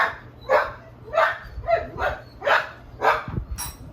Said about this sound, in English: they all get excited to work with me and they bark when I'm not